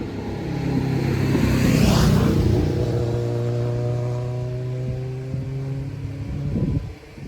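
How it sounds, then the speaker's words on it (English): Steady road traffic, with a car engine revving up and passing close by at a nearby street junction, a continuous mid-pitched engine drone that swells, then fades and lingers at moderate loudness. "there seems to be a lot of traffic right now. And there's a car coming out of where we need to go."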